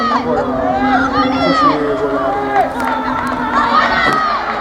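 Spectators at a rugby match between Provence Rugby and Bourg en Bresse raise a loud, continuous roar of shouting and cheering, with some nearby voices mixed in.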